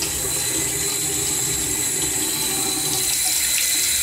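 Water runs steadily from a tap over a soapy beetle being washed, a constant close splashing flow with no talking.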